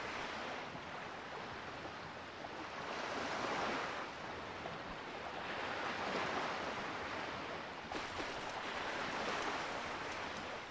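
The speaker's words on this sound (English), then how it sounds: "I hear water." Broadband rush of water, waves or a stream ambience in The Legend of Zelda: The Wind Waker, steady and fairly loud throughout with gentle swells and no talking.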